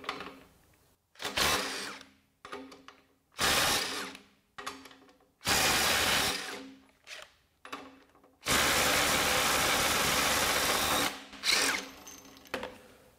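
A Ridgid R862311 impact driver on a freshly charged 2-amp-hour battery tightens at 200 foot-pounds in repeated loud close bursts of rapid hammering, several short runs and then one long sustained hit, with quiet gaps between and no talk.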